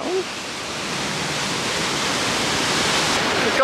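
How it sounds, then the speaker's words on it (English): A waterfall near Briksdal Glacier in Norway roars close by as a dense, steady rushing hiss that swells slightly louder toward the end, with no speech. "Going down with the waterfall."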